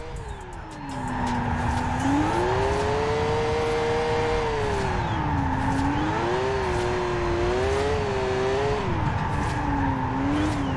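Toyota GT86 engine in Forza Horizon 4 revving loud and close, its pitch climbing and falling in repeated smooth sweeps over a steady drone, with a brief tire squeal.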